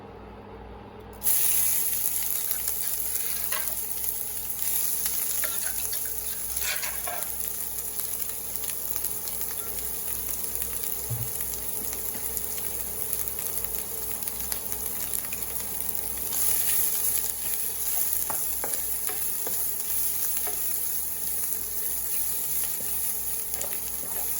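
Thai curry paste hits hot oil for a field-rat stir-fry, setting off a loud, steady, close sizzle and crackle that runs unbroken for the whole stretch, with occasional stirring scrapes and no voices.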